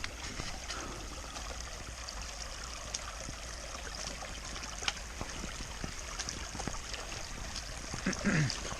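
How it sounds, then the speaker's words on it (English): Small tannin-stained creek at a trail crossing in a Pennsylvania forest in fall, giving a steady, soft trickle and gentle flow of water throughout with no talk, plus a brief rustle near the end. "First little creek crossing."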